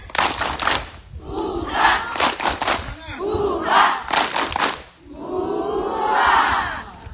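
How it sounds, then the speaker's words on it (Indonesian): A morning assembly crowd performs a rhythmic spirit clap chant led by a commander at the front, with bursts of synchronized clapping alternating with loud group shouts in a patterned sequence. "Kita tepuk semangat satu kali dulu ya."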